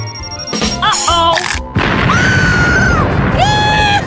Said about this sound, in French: Une explosion de chocolat!